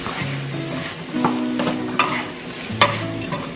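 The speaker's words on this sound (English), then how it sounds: "you're going to stir fry this for a good 5 minutes." Okra (bhindi) stir-fried in a pan: steady sizzling with repeated scraping and clinking strokes of a spatula, close and moderately loud, no voices.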